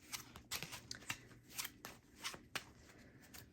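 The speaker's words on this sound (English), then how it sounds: "we're going to go ahead, start shuffling" Tarot cards being shuffled by hand, a run of crisp riffling bursts and soft slaps in an uneven rhythm, close and quiet with no talk over them.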